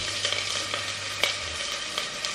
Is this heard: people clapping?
no